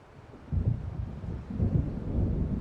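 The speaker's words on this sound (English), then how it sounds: "It seems there's a storm coming." A thunderstorm in Alan Wake Remastered: low rolling thunder rumbles swell in two heavy surges over a bed of rain and wind, deep and fairly loud, with no voices.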